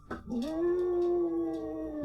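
A young puppy howls in a home kitchen, one sustained rising and wavering wail up close, loud and alone with no talking.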